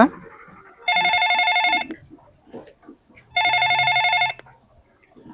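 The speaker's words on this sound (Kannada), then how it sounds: "ಫೋನ್ ಒಂದು ಯಾರ್ದ ಬಂತು" A telephone rings twice in a garage in clear, evenly spaced electronic bursts, close and loud, with quiet movement noises between rings.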